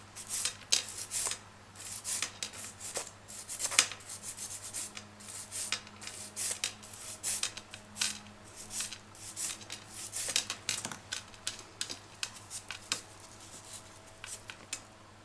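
Rapid, continuous rasping of a file worked back and forth across a gel nail during removal, close up, steady scratchy strokes with brief breaks over a faint background hum.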